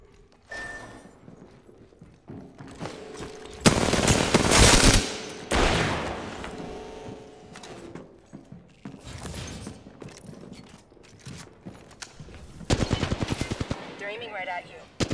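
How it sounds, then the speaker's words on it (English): Enemy gunfire in the video game Apex Legends, bursts of rapid shots and single cracks arriving in clusters, loud and close, mixed with game effects and occasional voice lines. "The enemies are shooting at me."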